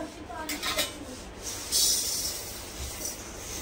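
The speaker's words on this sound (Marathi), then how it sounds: "पहिले आपण तांदूळ भाजून घेत आहोत।" Washed rice dry-roasting in a pan for chakli flour, quiet scraping and rubbing of a spatula against the pan with a few soft metallic clinks, faint and close.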